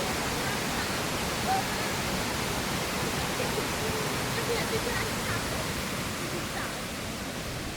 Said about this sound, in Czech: přímo pod námi divoká rokle s kaskádovitým vodopádem